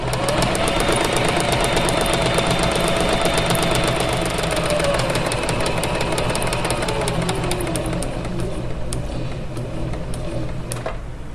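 A sewing machine stitches through paper for a first paper project, giving a steady, fast mechanical chatter of needle strokes close by that runs throughout without voices.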